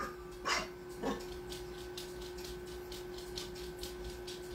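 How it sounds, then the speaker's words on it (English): A dog barks twice in quick succession, somewhat distant and muffled, over a quiet indoor hum. "I don't know what he's barking at, but he's awake."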